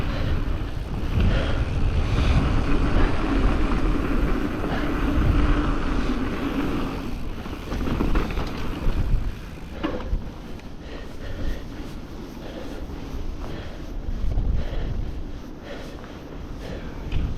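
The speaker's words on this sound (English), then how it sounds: "It's too windy, man." Strong gusty wind buffets the microphone outdoors at a dirt MTB jump park, a loud continuous low roar with surging gusts that eases slightly partway through; no talking.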